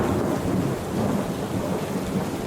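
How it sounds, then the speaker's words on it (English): Natural thunder rolls in a rainstorm, a continuous low, heavy rumble under a hiss of rain, steady and fairly loud without voices. "The thunder here is organic, it's natural."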